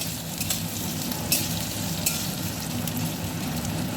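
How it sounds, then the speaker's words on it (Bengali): Potato pieces deep-frying in hot oil for a Lote fish curry give a loud, continuous sizzle with occasional sharper crackles as they are stirred. "তার জন্য আলুটা আমি ছাকা তেলে ভেজে তুলে রাখব।"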